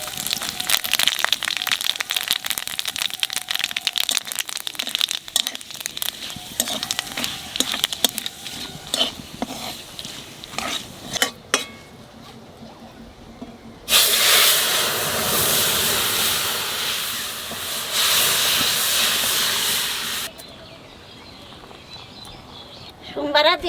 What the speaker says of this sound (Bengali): তেলের উপর দিয়ে দেবো শুকনো লঙ্কা